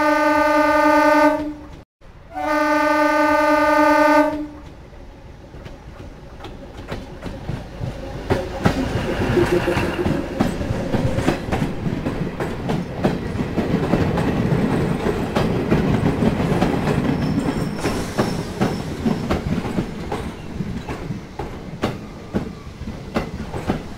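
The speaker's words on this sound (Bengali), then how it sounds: "এই এখন ট্রেনটার আসার সময় হলো?" A night train sounds two long, loud horn blasts, then rumbles past on the rails with a dense, steady clickety-clack of wheels that builds and holds, alone without talk.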